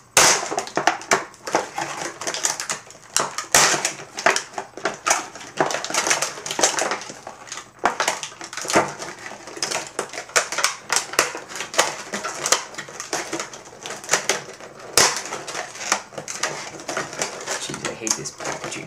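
Scissors cut and crush stiff plastic packaging around Skullcandy Hesh headphones, making dense, irregular crackling and snipping that runs on for the whole stretch, close and loud, with a voice speaking at times.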